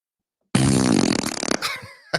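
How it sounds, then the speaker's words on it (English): A loud, long, buzzy fart sound effect from a fart button starts abruptly and sputters for about a second before trailing off into a wet, crackling finish. "I love the fart button."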